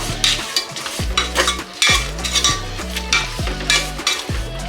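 Mushrooms fry in oil in a pan for a restaurant-style mushroom biryani, a steady sizzle broken by repeated scraping stirs of a spoon against the pan, close and fairly loud with no talking.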